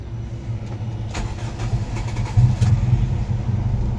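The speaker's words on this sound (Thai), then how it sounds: "สตาร์ทเครื่องให้ดูนะครับ" A 1992 Toyota Corolla petrol engine is started close by: a short burst of cranking, then it catches and settles into a low, steady idle, with no talk over it.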